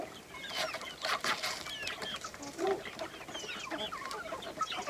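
Backyard hens cluck and chatter in a scattered, overlapping flock, fairly close and moderately loud, with short squawks breaking through the steady murmur of calls.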